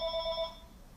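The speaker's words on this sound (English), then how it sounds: "that was just the phone ringing" A telephone rings faintly in the background, a brief warbling electronic ring that trails off into quiet room noise.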